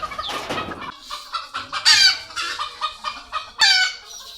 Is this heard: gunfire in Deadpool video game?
no